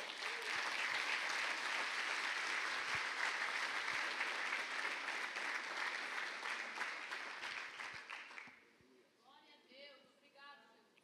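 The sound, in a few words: congregation applause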